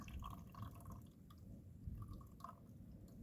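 Coffee squeezed from a bag at a campfire, dripping and trickling faintly into the fire over a steady low background rumble, with a few soft splashy drips, no voices.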